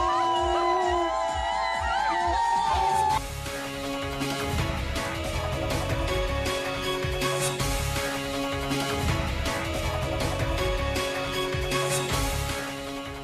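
A dense, noisy crowd at a Barbados election campaign rally, with shouting and cheering blended into loud music and a wailing horn-like tone over the first few seconds, sustained without pause.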